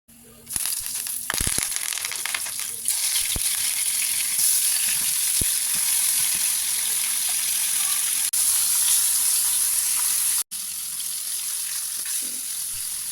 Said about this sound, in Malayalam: ഒരു പതിനഞ്ച് മിനിറ്റിന് ശേഷം നമുക്ക് ഇതൊന്ന് ഫ്രൈ ചെയ്തെടുക്കാം